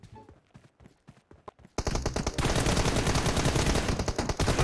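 Rapid pistol gunfire in PUBG Mobile during a team deathmatch, loud sustained bursts of shots crackling near after a quieter stretch of faint clicks and footsteps.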